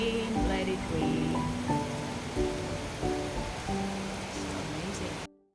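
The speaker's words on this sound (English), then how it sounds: "Thank you God for the rain." Steady rain falls at night on the terrace at Fisherman's Wharf, a dense hiss running throughout, with soft musical tones audible underneath and no clear thunder.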